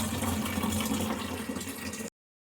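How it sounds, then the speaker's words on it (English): Water pours steadily and loudly into bottles already holding salt, a dense rushing splash that runs for about two seconds and then stops abruptly. "you're going to add water"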